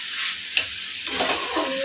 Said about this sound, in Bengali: আর এইদিকে শাক ভাজা হচ্ছে, শাক ভাজা বসিয়ে দিয়েছি।